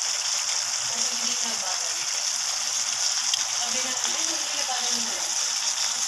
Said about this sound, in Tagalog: Ayun, kumukulo siya, guys.